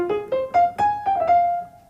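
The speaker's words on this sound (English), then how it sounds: "An ascending arpeggio, this kind of lifting experience like a rocket." A quick ascending arpeggio in the Mannheim rocket style, as in the first theme of a Beethoven sonata, climbs in six bright, distinct notes and ends on a sustained top tone, played alone without speech.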